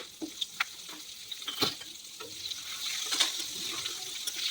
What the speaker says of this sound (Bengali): ওই তেলের মধ্যেই দিয়ে দিচ্ছি তেজপাতা আর শুকনো লঙ্কা ফোড়ন আর গোটা রসুন